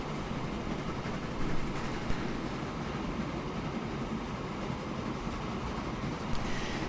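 Steady rumble of a livestock train running along its line in Transport Fever, a continuous, fairly faint rolling drone with faint rhythmic clicks and no voices.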